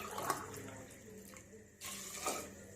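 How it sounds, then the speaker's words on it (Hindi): Water is poured into a pressure cooker over soaked chickpeas and potatoes, giving a soft continuous splashing and trickling that swells, pauses briefly and resumes, with a quiet kitchen around it. "इसमें पानी डालते हैं।"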